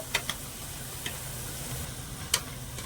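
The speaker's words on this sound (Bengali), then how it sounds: "এবার আমি কিছুটা বুধ এভাবে ছেড়ে দিয়েছি এবার উল্টে পাল্টে একটু ভালো করে ভেজে নেবো" Boondi drops frying in hot oil as they are turned over, a soft steady sizzle with a few sharp clicks of a spoon against the pan, close and quiet, no voices.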